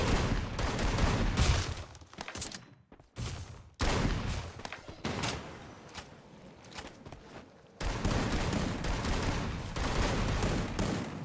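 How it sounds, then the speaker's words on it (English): Bursts of M60 machine gun fire in the Free Fire battle royale game, with sustained loud volleys broken by brief pauses, dense and continuous gunfire throughout. "providing cover fire with the M60"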